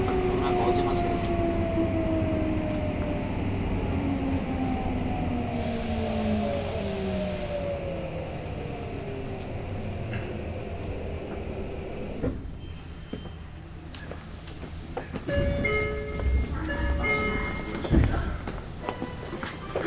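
A Tokyo Metro 05 series local train with Mitsubishi IGBT traction motors hums and whines as it runs and slows, its motor tones sliding in pitch, then stops with clunks and rattles near the end.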